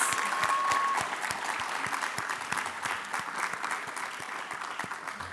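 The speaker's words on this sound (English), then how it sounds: "let's have one final round of applause for all of our winners and nominees" A crowd at a youth awards ceremony applauds the winners and nominees, steady dense clapping throughout, moderately loud and even, with a hint of voices in the hall.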